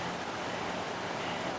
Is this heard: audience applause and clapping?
no